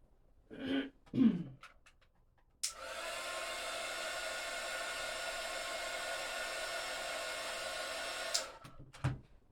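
Hair dryer blowing on paint on a small polar bear zipper charm, switched on after a couple of throat clears and running steadily for about six seconds before cutting off.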